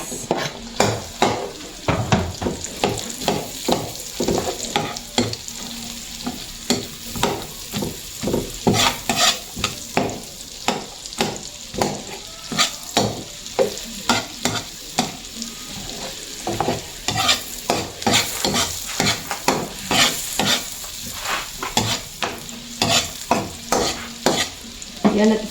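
Chopped onion sizzles in hot oil as a spatula scrapes and stirs the pan in steady repeated strokes, the frying loud and close throughout, no voices.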